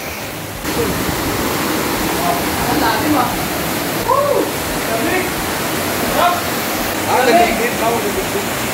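A waterfall in the hidden hills near Olongapo City roars in a steady, dense rush, while voices talk faintly beneath it.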